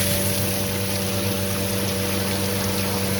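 Water rinses steadily over a freshly painted motorcycle airbox, a continuous rushing spray that holds even and close throughout with no talk.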